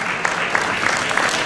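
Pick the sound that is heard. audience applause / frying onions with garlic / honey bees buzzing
audience applause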